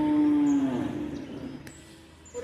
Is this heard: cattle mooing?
yes